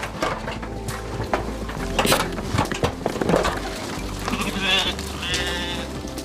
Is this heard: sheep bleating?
yes